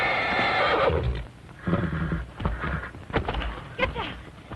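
A horse whinnies loudly at close range, a long shrill neigh followed by shorter snorting bursts and stamping, set in an old Western scene with a ranch corral.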